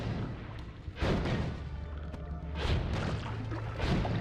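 Explosions in the video game Noita, three heavy booming blasts about a second and a half apart, each a loud crack with a rumbling tail over a dense, constant game soundscape.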